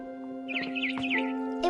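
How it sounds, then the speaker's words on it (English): Chirping bird calls from a barn swallow outside a window in a spooky mansion video game, several short rising tweets in quick succession over a steady musical drone, fairly clear and close. "It was a barn swallow going back to her nest."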